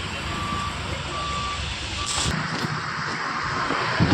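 A truck idles nearby with a low rumble while its reversing alarm beeps in slow, repeated tones.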